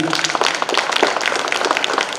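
An audience at a housing redevelopment presentation claps in a brief burst of dense, uneven applause, fairly loud and close throughout.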